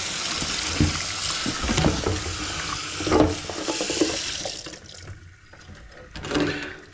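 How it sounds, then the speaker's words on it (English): Running tap water rinsing something in a sink, a steady rushing hiss with uneven splashes and surges as the object moves under the stream; a voice speaks briefly near the start. "So I just want to rinse it real good here."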